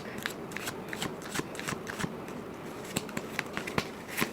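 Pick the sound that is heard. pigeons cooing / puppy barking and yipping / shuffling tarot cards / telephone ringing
shuffling tarot cards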